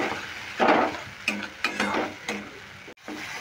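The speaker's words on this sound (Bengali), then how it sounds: "এই মিশ্রণটা দিয়েও ভালো করে মিশিয়ে নিচ্ছি মশলার সঙ্গে।" A pointed gourd seed mixture is stirred into spices frying in a pan, with several bursts of scraping and sizzling strokes in an uneven rhythm, close and moderately loud.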